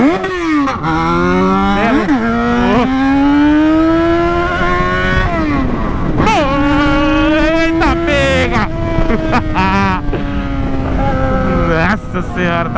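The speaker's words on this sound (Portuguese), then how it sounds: "Berra mesmo, sem dó essa motinha aqui, filho." A small motorcycle engine revs hard and loud close by, its pitch climbing and dropping repeatedly with wind noise, while a man exclaims briefly over it.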